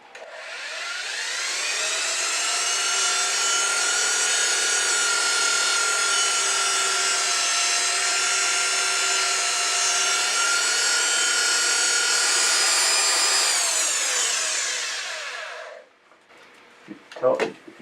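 A wooden bark-rimmed bowl spins on a lathe while 2-inch 120-grit sandpaper is pressed against it, making a loud steady whirring hiss that holds for about fifteen seconds, then winds down with brief clatter at the end.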